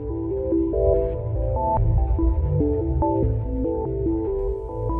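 NASA sonification of a black hole image: a dense, low droning tone cluster with shifting pitched notes gliding and stepping over a steady throbbing hum, continuous and fairly loud with no voices.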